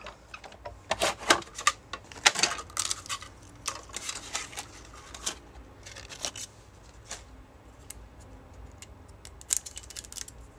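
Die cutting machine pressing two pieces of cardstock, a series of sharp clicks, snaps and crinkly rustles in irregular bursts, close and moderately quiet with no talk.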